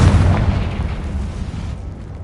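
A Confringo blast spell in the Hogwarts Legacy video game goes off as a loud, deep explosion that booms at once and then rumbles away over about two seconds.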